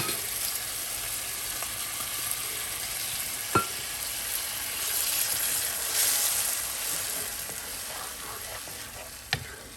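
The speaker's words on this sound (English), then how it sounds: "Now we are going to cook this until the oil releases from the tomatoes." Tomatoes frying in oil for tikka masala give a steady, dense sizzle that runs throughout, with a couple of sharp clicks from a stirring utensil against the pan.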